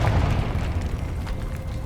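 Confringo fire spell blast in the Hogwarts Legacy video game, a loud dense booming rumble sustained for the whole short stretch, no voices.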